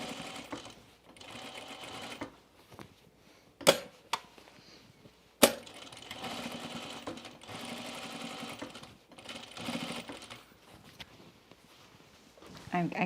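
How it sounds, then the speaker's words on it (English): A sewing machine stitches in the ditch along a seam of a cropped jacket. The whirring comes in several bursts separated by pauses, with a couple of sharp clicks between them and faint movement sounds. "we're going to stitch in the ditch, which means we're stitching in the seam that we've already sewn here"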